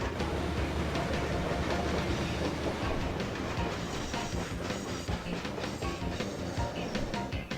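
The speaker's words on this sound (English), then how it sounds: "those are the coal trains" Coal trains run in the Chris Sawyer's Locomotion railway game, giving a steady loud rumble of rolling wagons with faint clickety-clack of wheels on rails, continuous throughout and with no voices.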